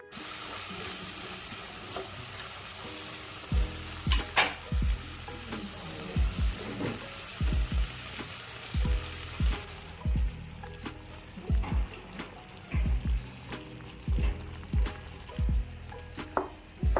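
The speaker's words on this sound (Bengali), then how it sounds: "তাই আমি প্রথমে সজনে ডাঁটা তেলে দিয়ে দিলাম, সঙ্গে নুন আর হলুদ দিয়ে দেব। এখন আমি সব কিছুকে অল্প সময় ভেজে নেব।" Sajne drumsticks frying in oil with salt and turmeric, a steady bright sizzle broken by repeated low thumps and scrapes of stirring in the pan, close and clear with no talk.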